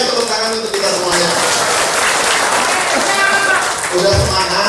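Loud, dense applause from an audience at a Golkar party political gathering, a steady wash of clapping sustained for several seconds with crowd noise mixed in.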